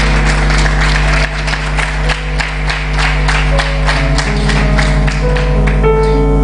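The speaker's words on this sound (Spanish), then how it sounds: "Dile un fuerte aplauso a Cristo Jesús" Applause from a church congregation fills the space, steady and loud over sustained music with held organ or keyboard chords, fading into the musical tones near the end.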